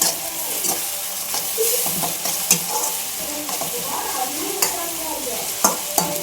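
Ginger garlic paste sizzles and fries in a pan on simmer while a utensil stirs it, producing a steady close crackle with sharp scraping clicks scattered throughout.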